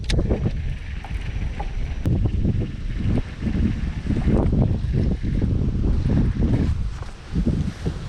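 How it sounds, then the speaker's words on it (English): Strong wind over a lake buffets the microphone continuously, a loud rumbling roar with gusty swells throughout. "Man, it is windy."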